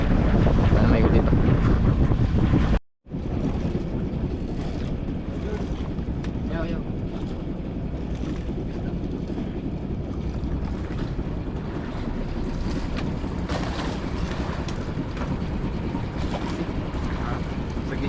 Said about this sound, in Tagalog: Malakas na yung hangin pero hindi na amihan mga idol.